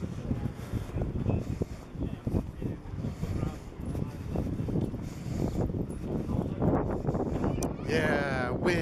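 Gusty wind rumbles against the microphone on a street in Zamoskvorechye, Moscow, a low, continuous buffeting under someone talking, with a brief whistling squeal near the end.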